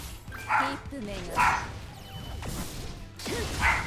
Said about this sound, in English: I can hear my dog barking downstairs.